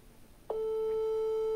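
A phone tone on an outgoing WhatsApp call, a single steady electronic beep that starts abruptly and holds clear and close, alone without talk.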